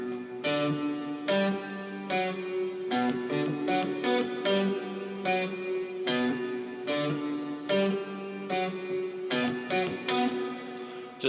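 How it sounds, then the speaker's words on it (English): Guitar playing the bass-hit intro of a song, short staccato plucked notes in a bouncy repeating rhythm, clear and close with no talking. "So starting off the song, we just have a couple of these like bass hits right here."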